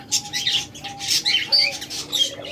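Lovebirds and cockatiels squawking close by in a busy flurry of shrill, overlapping calls and chirps, loud and continuous with no voices.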